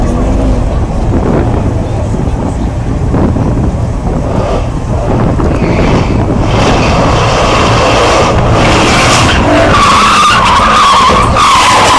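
A car skids, a loud continuous roar of tires and engine dominated by heavy wind buffeting on the microphone, with a rising squeal toward the end.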